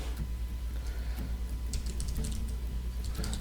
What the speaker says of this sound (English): So I can start typing in title.